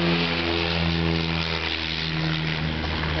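A propeller airplane comes in to land near Anchorage, Alaska, by the Pacific shore, its steady droning engine hum loud and continuous throughout.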